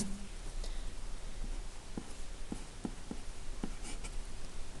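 Quiet, scratchy writing strokes come in short, irregular bursts during an AP Calculus BC lecture, over a steady background hiss with no talk.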